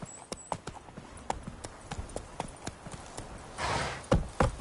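Horse hooves clip-clop in a steady, fairly quick rhythm in The Witcher 3 video game, close and crisp, slowing near the end with a brief rushing swell and a couple of heavier thuds.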